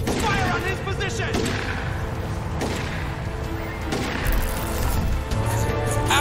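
Gunfire in the video game Crysis 3, with dense bursts and sharp cracks layered over a constant loud combat din, with shouted voices mixed in.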